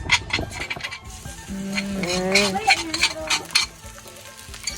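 Hot oil sizzling steadily as food fries in a pan, with a few stirring scrapes and a brief sustained tone in the middle.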